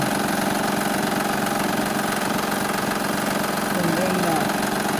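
Engine of a 2007 Honda Pilot with a suspected timing belt tensioner fault, a steady, close idling drone with a fast, even knocking pulse throughout, as a person speaks over it.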